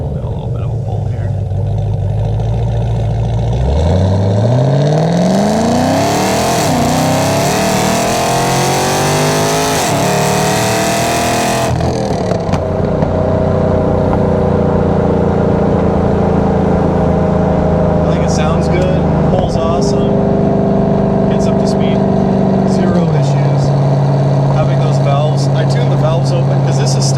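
A cammed, pulley-swapped Camaro ZL1 with stock exhaust valves tuned open revs hard through a full-throttle pull, its loud engine note climbing steadily through the gears with a few shift breaks before settling into a steady drone.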